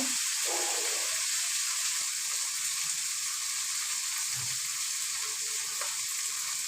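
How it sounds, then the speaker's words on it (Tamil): Curry leaves sizzle in hot oil with a constant bright hiss and faint crackles, fairly quiet and heard on their own. "கருவேப்பிலை போட்டுக்கோங்க"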